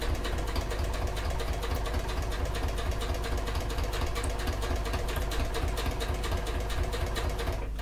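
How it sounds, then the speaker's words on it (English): A sewing machine stitches fabric for a clutch bag, running continuously at a steady, fast rhythm, close up and fairly loud, with no talking. "I'm just going to carry on stitching"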